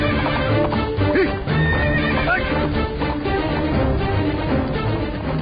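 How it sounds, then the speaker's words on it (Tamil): Horse neighing and whinnying repeatedly in an animated devotional story, with clip-clop of hooves and a dense musical backing throughout, loud and close. "குதிரை அடங்க மறுக்கிறது மகாராஜா."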